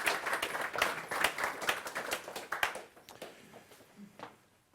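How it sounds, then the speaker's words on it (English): Audience applause greeting a speaker called up on stage at a free-market event, lively clapping with sharp individual claps that thins out and fades to a few scattered hands by the end. "please give me an applause"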